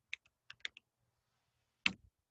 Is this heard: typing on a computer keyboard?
yes